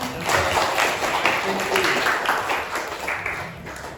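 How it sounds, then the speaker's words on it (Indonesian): A classroom audience during a teaching performance assessment breaks into applause, a dense continuous wash of clapping with voices mixed in underneath throughout. "ya, tepuk tangan"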